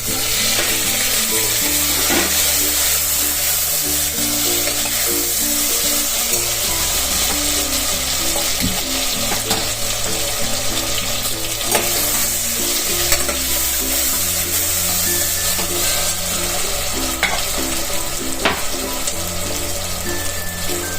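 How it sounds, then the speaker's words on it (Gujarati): Ginger, garlic, clove, cinnamon, cumin and asafoetida frying in hot oil for rasam vada, a steady loud sizzle with a low hum running throughout and occasional scrapes of stirring. "તેલ મૂકી દીધું છે તો એમાં એક લવિંગ 2 ને એક તજ નાખ્યું છે, અને જીરું નાખવું અને હિંગ નાખવું"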